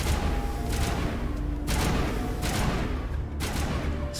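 Gunfire in the video game Mass Effect, a steady rattle of shots filling the clip with a few louder bursts, loud and continuous without speech.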